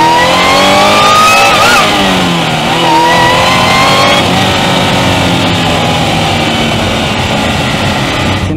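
A Sprintex-supercharged 2022+ 86 accelerates hard on a drive, engine note rising loudly through the revs, easing briefly then climbing again in a steady, close, continuous drone.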